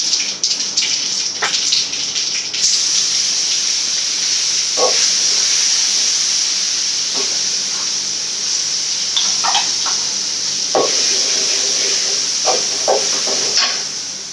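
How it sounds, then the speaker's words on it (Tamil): Pirandai (adamant creeper) pickle sautés in hot oil, producing a loud, continuous frying hiss with scattered small pops and crackles throughout, with no speech. "இப்போ ஊறுகாயை போட்டு நம்ம அதை வதக்கலாம்ப்பா"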